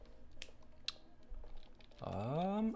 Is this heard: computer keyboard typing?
yes